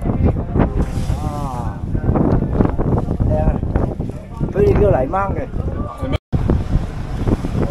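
Strong wind and rough waves at sea batter a fishing boat off Sabah during heavy weather, a steady roaring wash running underneath loud, excited talk throughout.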